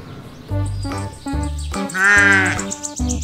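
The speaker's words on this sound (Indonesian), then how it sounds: "kalau ini adalah hewan ternak kambing teman-teman. Suaranya hampir sama dengan domba." A goat bleats a few times in short wavering cries, the longest near the end, with a voice speaking between them.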